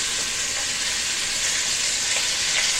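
Turkey bacon, sausage and onions frying in a pot, a dense, steady hiss of sizzling fat, loud and close throughout with no talk.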